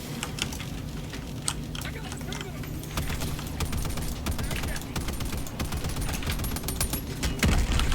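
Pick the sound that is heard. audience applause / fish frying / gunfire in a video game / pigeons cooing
gunfire in a video game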